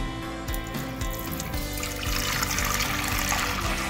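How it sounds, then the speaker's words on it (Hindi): Water pours steadily into a metal pressure cooker, a continuous splashing trickle that grows slightly louder, heard close up with no talking. "और कुकर में अब हम पानी ऐड करेंगे।"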